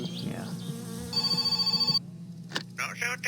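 A telephone rings with a rapid trilling bell for about a second, then cuts off, followed by scattered knocks and handling noises.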